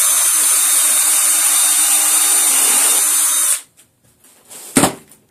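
A power drill whirs steadily for a few seconds driving a screw into the wood of a pet exercise wheel, then stops, followed by a sharp knock and light handling sounds.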